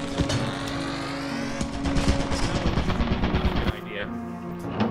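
An automated turret in Lethal Company fires a sustained, rapid, loud stream of shots for about four seconds, then cuts to a quieter rumble with a brief rising tone near the end.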